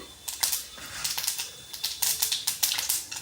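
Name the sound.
mustard seeds crackling in hot oil in a pan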